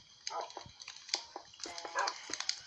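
Dogs barking in short, scattered yaps at a distance, fairly faint, at a backyard house build, with people talking over them.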